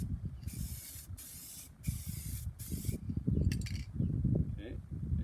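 Spray paint hisses onto a vehicle panel in several short bursts, each about a second long, as a thin coat of black goes on. A voice speaks low underneath and continues between the bursts.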